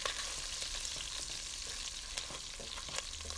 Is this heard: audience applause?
no